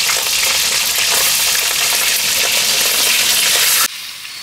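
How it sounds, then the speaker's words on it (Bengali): Poultry chicken pieces fry in a pan with a loud, steady broadband sizzle that runs unbroken for nearly four seconds before dropping abruptly to a quieter hiss. "বাকি মাংস একই রকম করে ভেজে নিচ্ছি।"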